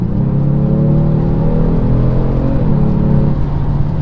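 A 2020 Genesis G70 accelerates hard, its engine a steady, loud, low droning whir from inside the cabin that holds for several seconds with a slight rise in pitch.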